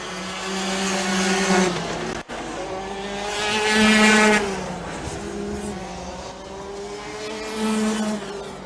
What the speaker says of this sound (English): That number 3 does have a distinguished sound to it. It's much louder than the other karts. It's got a crisp, deep noise to it.